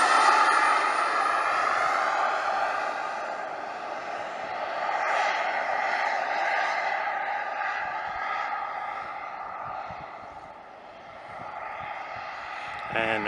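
A BVM F-15 Eagle model jet powered by a Swiwin 140 turbine flies past, its loud steady turbine roar swelling and fading with distance, while people talk nearby.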